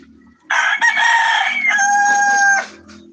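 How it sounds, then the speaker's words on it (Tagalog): A rooster crows once, loud and close, in a long drawn-out call of about two seconds, inside a home during a morning cooking session; no one speaks over it. "Ingay ng manok eh."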